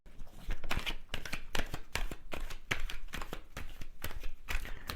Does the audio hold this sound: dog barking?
no